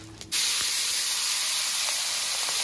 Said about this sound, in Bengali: ফোড়ন দিয়ে দিয়েছি, একটু নেড়ে চেড়ে এবার মাছটাকে ঢেলে দেবো